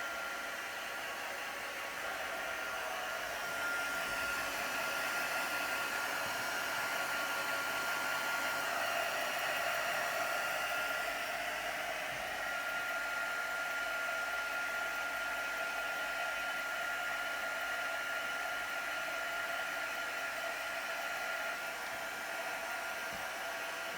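A handheld craft heat tool blows continuously to dry misted paper craft flowers, a steady close whooshing drone that holds for the whole stretch with no talking.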